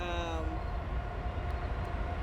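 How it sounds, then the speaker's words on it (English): A train passes close by with a steady low rumble and a brief horn tone at the start, rolling on without pause. "You'll get another train."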